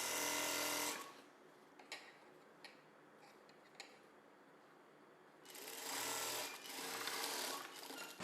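A sewing machine stitches a blouse side seam in a short loud burst, goes quiet with faint handling sounds, then runs again in a longer steady whir.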